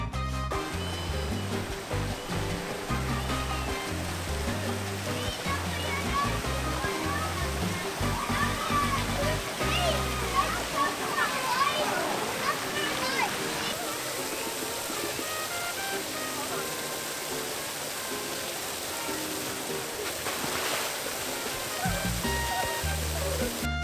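Water splashes and sprays continuously at a splash pad in a Cancún all-inclusive resort, with a busy wash of spray and sloshing. Voices and other background sounds mingle beneath it.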